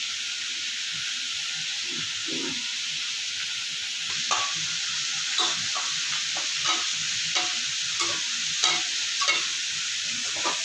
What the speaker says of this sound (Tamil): இப்போ இந்த வெங்காயம் நல்லா செவக்க வேகட்டும்